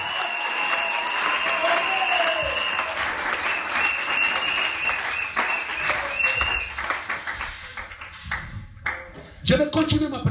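Congregation in a church applauding and cheering, sustained loud clapping with crowd voices and a ringing tone, thinning out toward the end as someone speaks.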